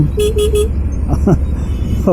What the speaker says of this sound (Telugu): హారన్ ఈజ్ గుడ్ యాక్చువల్లీ, కొంచెం కామెడీ ఉంది